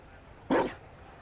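A single short bark from a dog, a Mabari hound in the fantasy game Dragon Age Inquisition, sounding close and fairly loud over a quiet background with no one talking.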